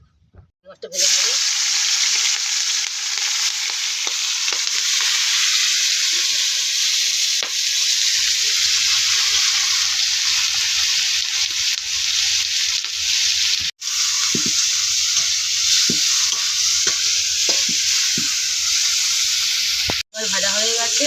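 Frying in a pan for a bottle gourd and prawn curry gives a loud, close, continuous sizzle that starts abruptly, with brief sharp stirring clatters and two short dropouts along the way.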